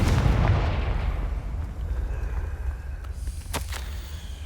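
A Confringo fire spell bursts in Hogwarts Legacy, a loud booming blast that rolls and decays over a few seconds, followed by a couple of sharp crackling snaps.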